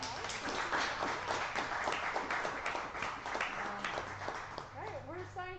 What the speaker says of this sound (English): let's give Kyle a huge round of applause